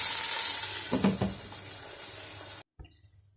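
Meat pieces sizzle loudly in a hot pan with a dense, hissing fry, a few clattering stirs in the middle, then the sound cuts off abruptly near the end.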